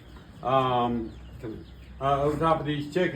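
Chickens cluck in short harmonic bursts, one longer call followed by a cluster of quicker clucks, fairly close by.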